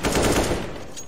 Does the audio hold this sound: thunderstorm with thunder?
no